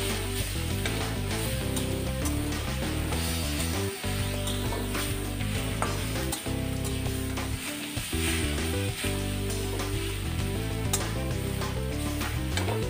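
Leutia saag greens with crushed bori frying in a pan, a steady sizzle running the whole time beneath a layered, tonal backdrop, with no talking.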